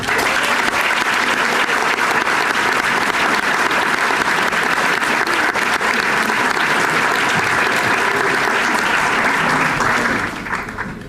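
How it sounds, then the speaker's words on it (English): A full hall at a 2019 sixth form prize and honors assembly gives a long round of applause, a dense, even roar of many clapping hands that carries for about ten seconds before tapering off at the end. "I would like to give Shirley, Nikki, Jack, Greg, Maddie, and Brendan one more round of applause"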